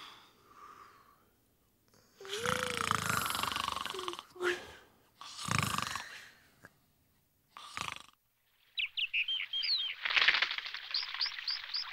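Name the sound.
snoring at night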